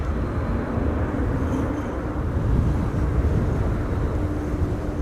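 An Egypt Air airliner departing Amsterdam Schiphol Airport in high winds, a steady broad low rumble of jet engines heard at a distance, blended with wind noise and no clear peaks.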